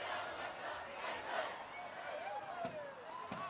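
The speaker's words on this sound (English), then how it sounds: "The crowd is going mad." Rugby crowd cheering wildly at Sixways Stadium during a varsity match: a faint, distant wash of cheers and shouting from a large crowd, with a couple of sharp thuds near the end.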